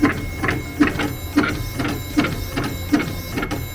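A Primera LX610 label printer buzzes and whirs steadily up close while printing, with regular rhythmic pulses of its mechanism every half second or so.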